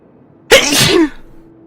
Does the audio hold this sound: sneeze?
yes